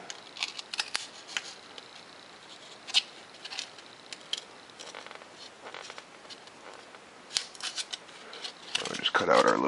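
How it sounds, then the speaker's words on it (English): A blade scores and cuts out a piece in short, dry scraping and snipping strokes, close and fairly quiet, ending in a louder rustle. "So just cut out our little, just score it."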